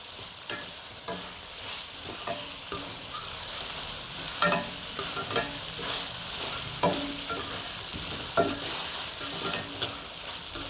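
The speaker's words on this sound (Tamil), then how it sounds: "இது ஒரு 5 நிமிஷம் இதை அப்படியே இந்த எண்ணெயிலே அப்படியே வதக்கிக்கிறோம்" Mutton sizzles as it sautés in oil for mutton varuval, with steady frying hiss broken by irregular scraping stir strokes from a spoon against the pan, close and fairly quiet, no voices.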